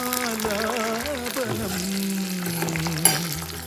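Spices and curry leaves frying in hot oil for a tempering, with fennel, cinnamon, cardamom and cashews in the pan, making a steady broadband sizzle beneath a wavering melodic tone that may be a voice.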